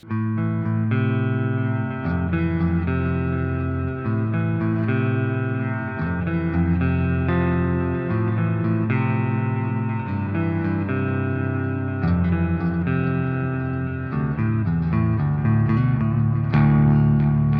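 Electric guitar played through a Tank-G multi-effects pedal on a clean-to-crunchy amp setting, sustained chords and notes with a slightly crunchy, processed tone and some echo, continuous and fairly loud throughout.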